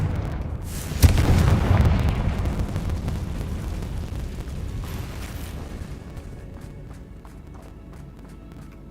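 A Confringo fire spell blast in Hogwarts Legacy, a loud sudden boom that swells into a long rumbling roar and slowly fades, with faint crackling debris trailing after and no voices.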